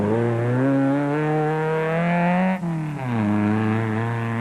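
A Class D Castrol Toyota Hilux 2.7i off-road racing truck roars loudly at close range, its engine note climbing under acceleration, briefly dropping at a gear change and then rising again, with no talk.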